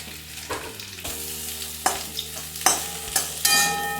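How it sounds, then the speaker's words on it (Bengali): Bitter gourd slices frying in hot oil, with a steady crackling sizzle and several sharp clinks and scrapes of a utensil stirring the pan; close and moderately loud, with no talking. "তেলটা গরম হয়ে গেছে আমি এগে করলাগুলো একটু ভেজে নিচ্ছি"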